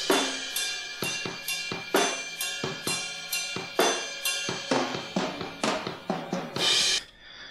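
A full drum kit picked up by a heavily compressed, dirty room mic set in an adjacent hallway, with steady loud hits pumping and swelling between each beat and a roaring cymbal-heavy wash near the end before it cuts off.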